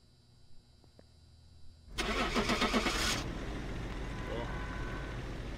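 A car engine in Phasmophobia cranks and catches with a loud burst at about two seconds, then settles into a steady, rumbling idle that continues to the end, with faint speech-like sounds earlier.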